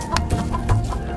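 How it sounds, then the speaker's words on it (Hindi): Several hens cluck in short, repeated bursts, close and fairly loud over a low background murmur, with no voices. "उसके पास बहुत सारी मुर्गियां थीं।"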